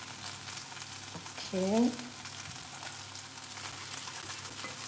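Curry-powdered shrimp frying in a pan for Singapore noodles, giving a steady, close sizzle throughout with a brief louder burst near the start; a voice speaks a single short word.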